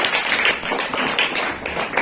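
Schoolchildren in a classroom clapping together, a brief, close burst of many overlapping hand claps with a few scattered voices mixed in.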